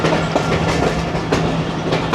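The 39 Up Jaffar Express rushes past on the adjacent track in Pakistan, a brief close burst of rumbling wheels and rhythmic clickety-clack.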